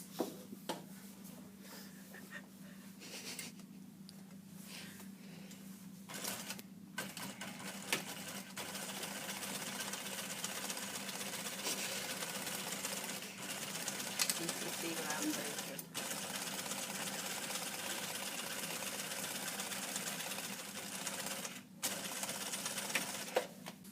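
Sewing machine stitching around a garment armhole, a continuous whirring drone under a steady low hum, with brief pauses and soft clicks, fairly faint and close.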